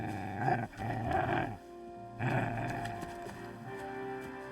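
A dog in Kingdom Come: Deliverance 2 growls in two low, rumbling bursts with a short pause between, followed by quieter ambient game sound.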